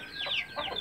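An Aseel hen on a breeding setup in Sindh gives a few quick, soft clucks in a brief burst, close by with no other sounds.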